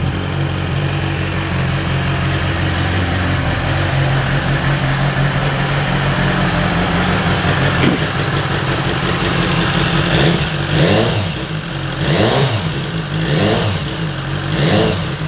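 A 2018 BMW S1000R motorcycle engine cold-starts and idles loudly and steadily, then is revved in several sharp rising blips toward the end, heard close up with no talking.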